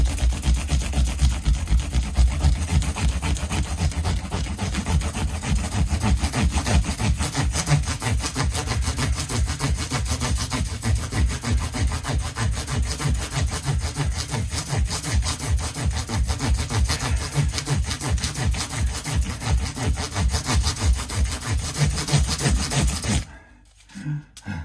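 A guitar fretboard is sanded with 1000 grit paper during a Telecaster refret, producing loud, rapid, rhythmic back-and-forth rubbing strokes that continue steadily until a sudden stop near the end.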